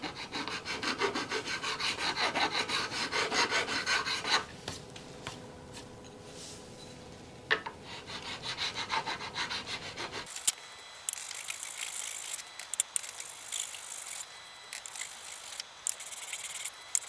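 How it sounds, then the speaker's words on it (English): Guitar frets on a 1970s Gibson-style SG custom build being re-crowned with a file and then sanded, giving a steady scraping, rubbing texture of metal and abrasive strokes along the neck, close and continuous with brief pauses. "Now I'm going to re-crown and final sand and polish these frets."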